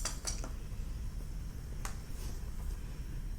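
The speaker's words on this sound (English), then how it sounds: "keep on stirring this just to make sure the rice cakes don't stick to the bottom" Spicy ramen with rice cakes is stirred in a pot, giving a few faint, scattered clicks and scrapes of a utensil against the pot over a low, steady background.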